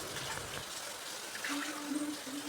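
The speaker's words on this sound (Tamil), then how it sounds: "தண்ணியில் இதை நீட்டாக கழுவி எடுத்துடலாம்" Tap water runs steadily over a stone grinder as it is rinsed clean, a soft continuous splashing wash with a faint tonal hum underneath.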